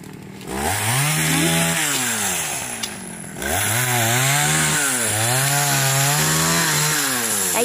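A nearby chainsaw cuts melaleuca trees in Trường Xuân, Đồng Tháp, its loud engine revving up and down in repeated swells with a brief drop in the middle.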